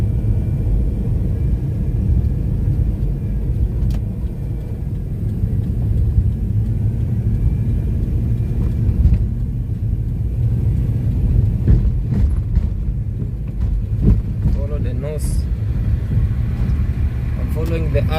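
A truck drives ahead on a road while the vehicle following it rumbles along, a steady low engine and road drone throughout, with people talking over it.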